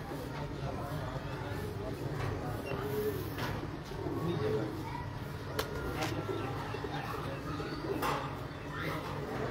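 Soft coos from pigeons in Lahore rise now and then over a steady outdoor murmur, with people talking nearby throughout.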